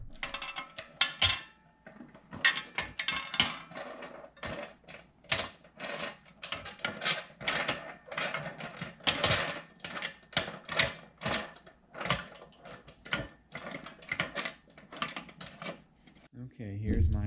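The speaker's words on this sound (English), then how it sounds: "I'm gonna go ahead and put the pressure tank together" Metallic clanks, clicks and rattling as a pressure tank for resin casting is assembled, irregular bursts of close handling noise with short pauses between them, with no talking.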